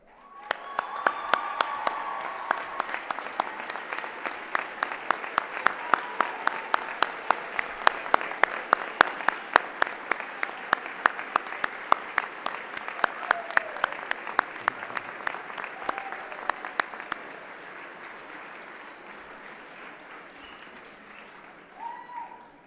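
A high school commencement audience stands and applauds the graduating class, a broad crowd roar of clapping punctuated by sharp individual claps, fading gradually and ending with a faint final flurry.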